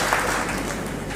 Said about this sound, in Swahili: Jipigieni makofi tena mkiketi